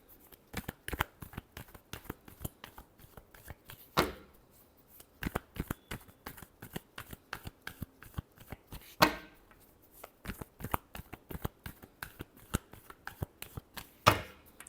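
Tarot cards shuffled by hand in repeated quick riffling bursts, crisp close snaps and flutters separated by short pauses and a few sharper slaps, with no speech.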